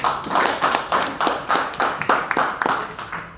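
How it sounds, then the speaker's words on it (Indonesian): Audience at a school teacher training session clapping together in a steady, rhythmic applause, loud and close, lasting a few seconds with no talk. "Kasih aplaus dulu."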